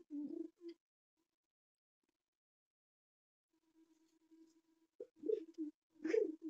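Tournament pigeons in a loft coo softly in short low murmurs, one burst at the start and several more toward the end, separated by quiet gaps, faint and close by.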